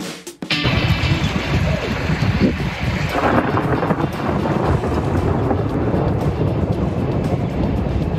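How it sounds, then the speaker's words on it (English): Thunder snow during a historic lake-effect storm in upstate New York, a loud, long rolling rumble of thunder with windy, rain-like noise, starting abruptly and continuing without talk. "Yep, that is thunder snow."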